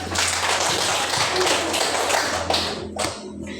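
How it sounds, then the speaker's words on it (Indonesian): A classroom group claps for a presenting team, a continuous patter of hands with low hum underneath, thinning out toward the end after a final few sharper claps. "Tepuk tangan dulu"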